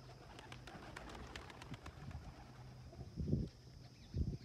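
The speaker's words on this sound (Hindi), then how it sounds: "देखिए कबूतर" Low, soft cooing of pigeons repeats a few times, the loudest coos near the end, over outdoor background noise and faint chirps.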